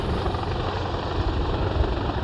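A military helicopter's steady rotor roar and engine whine fill the scene during an exercise, loud and continuous with a dense low thumping.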